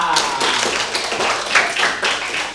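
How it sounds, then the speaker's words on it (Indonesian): Children clap their hands in a classroom, a quick burst of scattered, overlapping claps that swells and tapers over a couple of seconds, with chatter mixed in. "Tepuk tangan."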